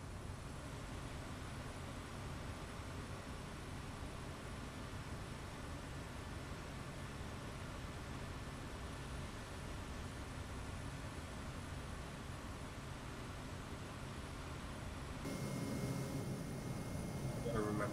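Steady drone of a small bush plane's engine in level flight at about 3,000 feet, a constant broadband roar filling the whole stretch with no breaks and rising slightly toward the end.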